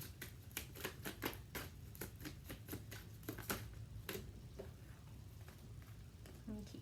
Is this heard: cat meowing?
no